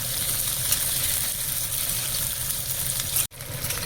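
Potatoes and onions frying in a pan produce a continuous hissing sizzle that runs evenly and cuts off abruptly near the end before resuming.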